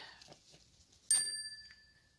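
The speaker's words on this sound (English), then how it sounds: "Oh, of course I have to hit the bell." A single bright metal bell struck once in a quiet room, ringing out clearly with a sustained, slowly fading tone.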